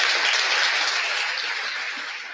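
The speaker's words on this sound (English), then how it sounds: "Round of applause." A round of applause from a live event audience, dense continuous clapping washing steadily throughout, fairly loud and gradually tapering slightly toward the end with no talking.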